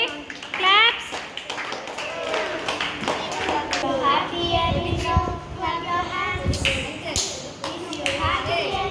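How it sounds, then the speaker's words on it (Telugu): Children clap their hands at a faith-based kids' singing session, scattered sharp claps mixed with children's voices and an adult talking, fairly close and moderately loud. "క్లాప్స్ కొట్టండి."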